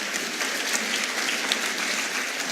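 Audience applause at a cancer symposium lecture, a steady, dense wash of clapping from a crowd that holds evenly for the whole stretch with no voices over it.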